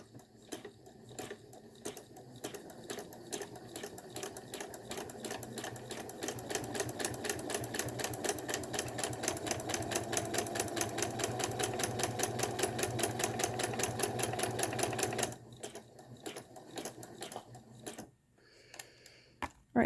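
A home sewing machine runs a straight stitch on knit fabric, its rapid, even needle clatter building to a steady loud run for about fifteen seconds, then stopping into quieter handling noise.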